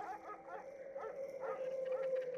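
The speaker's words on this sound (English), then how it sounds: "The only sounds punctuating the forest's forlorn melody were her ragged breathing and short barks from the nearby hunters" Short barks from hunting dogs in a forest, a sound effect in a fantasy audiobook, yelping and whimpering repeatedly at mid distance over a steady ambient drone.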